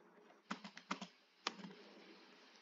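Scattered keystrokes on a computer keyboard as script code is written in Roblox Studio: a few crisp, close clicks in two quick clusters and then a single sharper tap, with quiet between.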